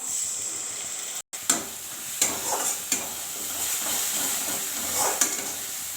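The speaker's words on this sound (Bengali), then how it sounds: "মশলাটাকে একটু ভেজে নেব।" A water-mixed paste of ground cumin, coriander and Kashmiri chili powder frying in a pan, with close hissing sizzle, a brief dropout, then scattered scrapes and stirring knocks, no talk.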